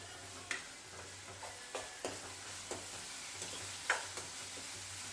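Egg curry masala with tomato and curry leaves fries in oil in a pan, a faint steady sizzle punctuated by soft, irregular taps and scrapes of a spoon stirring it back and forth.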